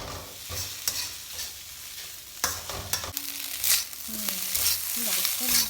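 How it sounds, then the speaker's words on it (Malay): Spicy nasi goreng is being stir-fried in a pan, with repeated scraping and tossing strokes of a spatula over a soft, continuous sizzle, fairly close and moderately loud. "chef Atira tengah memasak nasi goreng"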